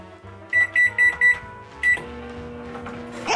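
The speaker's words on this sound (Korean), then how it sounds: "전자레인지를 돌릴 때는 여기를 보면 안 돼요." Microwave oven heating chocolate milk with a Choco Pie: a quick series of four sharp button beeps, then another, before the steady low hum of the running oven takes over.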